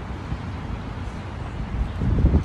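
Steady gusting wind buffets the microphone outdoors, a low rumbling roar that swells louder near the end.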